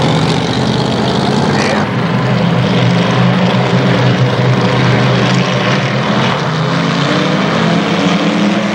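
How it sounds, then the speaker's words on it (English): Race cars at a dirt speedway Labor Day championship roar out of turn four on a restart, a dense, loud, continuous engine drone swelling across the whole stretch. "They pick up the throttles, they come out of turn number 4."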